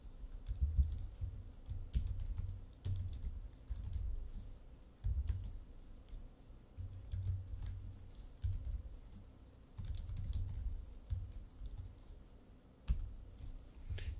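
Code being typed on a computer keyboard, with bursts of rapid close key clicks separated by short pauses, steady and moderately loud throughout with no voice.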